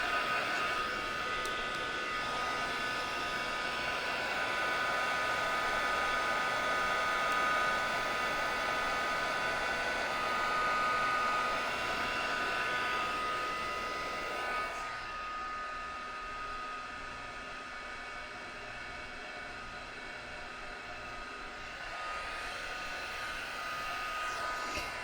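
A heat gun drying a watercolor flower painting gives a steady, loud blowing whir with a faint tonal hum. Partway through it drops to a lower, softer airflow that carries on to the end.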